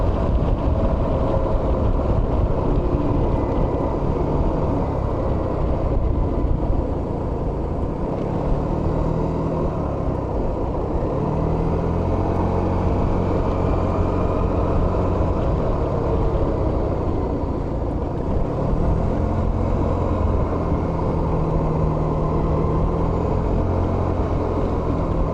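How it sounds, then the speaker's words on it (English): Suzuki Burgman 200 scooter riding through corners on a desert road on South Mountain, its engine droning steadily with rising and falling tones beneath heavy wind buffeting on the microphone, no voices. "the little Burgman 200 zips through these corners very nicely"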